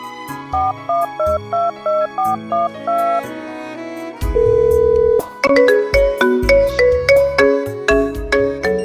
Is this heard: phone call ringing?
yes